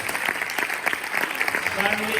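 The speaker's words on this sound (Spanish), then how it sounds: "un aplauso ahí" An audience claps steadily in a dense, even patter that carries through the whole moment, moderately loud, with some voices underneath.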